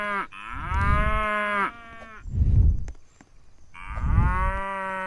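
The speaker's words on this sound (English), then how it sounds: "I think this is milking cows." Cows moo in a video game set in an elevator, three long drawn-out lowing calls with short gaps between them, loud and clear with no talking.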